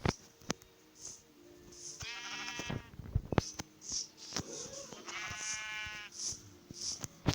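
Sheep in a video game bleat twice in long wavering cries, over low game noise and short clicks.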